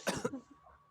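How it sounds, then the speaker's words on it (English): A video game character in The Great Ace Attorney Chronicles coughs up blood in a short harsh burst of two or three wet coughs that trail off into quiet. "I'm so glad you left the sound effects on so we could hear him coughing."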